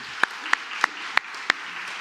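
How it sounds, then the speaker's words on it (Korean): A church congregation at a Sunday worship service applauds its choir, a soft, even wash of clapping with a few sharper claps standing out at regular intervals. "우리 찬양대 한 번 더 박수해 주시고요."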